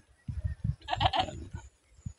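A goat bleats in a wavering, nasal cry, with several shorter bleats and animal noises around it, fairly close.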